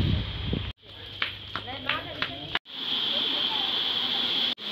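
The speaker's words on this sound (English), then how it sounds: "So guys, here's a waterfall" A small waterfall where people wash their hands and feet gives off a steady rushing hiss, broken by abrupt cuts, while voices and splashy sounds come through over it.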